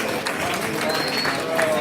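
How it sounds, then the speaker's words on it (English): Applause from an audience at a gala dinner, a brief burst of dense clapping with scattered voices mixed in. "Let's give Alex a round of applause."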